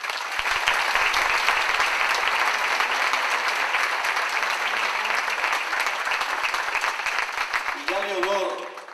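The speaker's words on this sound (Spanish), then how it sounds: "Julio, un aplauso para Julio." An audience applauds Julio, a diatonic accordion player, at a traditional music event in Asturias, with sustained loud, dense clapping for about eight seconds before it fades and a voice begins.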